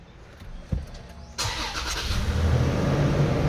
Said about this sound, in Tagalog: Yan, nakaandar na yung makina.